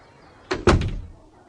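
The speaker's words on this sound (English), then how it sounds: "And the woman closed the door." A door shuts with a quick double knock, a light contact followed by a firmer slam, close and clear with no talking.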